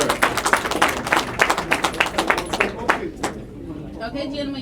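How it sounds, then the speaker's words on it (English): Audience applause for a group of artistic scholars at a school district board meeting, a burst of clapping that fades out after about three seconds into room murmur. "Come on, artistic scholars, another round of applause"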